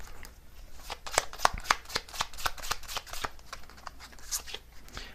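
Tarot cards being shuffled in the hands, a quick run of crisp riffling flicks and soft slaps at close range, fairly quiet, with no talking.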